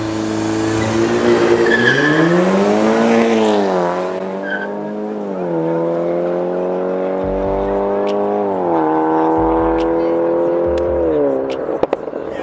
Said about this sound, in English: Golf 6R versus Golf 7 GTI.